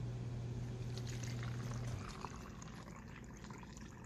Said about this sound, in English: So I'm just gonna put my water in.